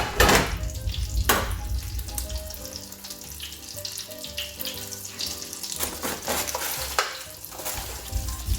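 Breaded mozzarella sticks fry in oil, a faint steady sizzle broken by stirring clatter, splashy utensil noises and a few sharp bumps close by.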